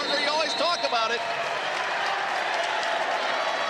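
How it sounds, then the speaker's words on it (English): Loud crowd cheering and applause fill a women's college basketball rivalry game between Calvin and Hope after a fast-break layup, a dense steady roar with a voice briefly audible at the start. "This crowd is alive."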